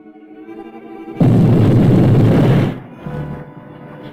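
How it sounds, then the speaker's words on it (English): Explosion beneath a bank in a 1945 Charlie Chan film: one loud, dense blast roaring up suddenly and sustained for about a second and a half before cutting off into quieter rumbling. "Explosion. Beneath bank."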